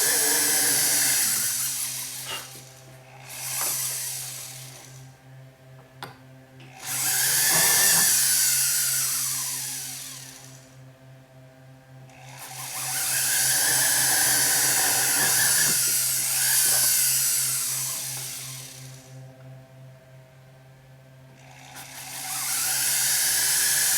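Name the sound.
drilling holes in sterling silver sheet with 1mm bit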